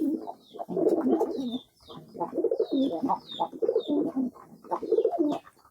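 Domestic pigeons coo at a pigeon farm in repeated, throaty rolling phrases with brief pauses between them. The birds are close and clear, with faint higher chirps above.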